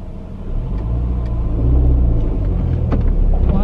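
A car engine rumbles steadily with a deep, loud drone while the car is being driven, rising slightly in the middle, with no talking.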